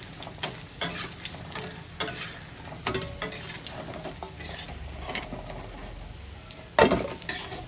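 Dal bora fry in oil in a pan over a constant sizzle while a utensil stirs and scrapes, making repeated sharp clinks and taps that end in one louder knock near the close.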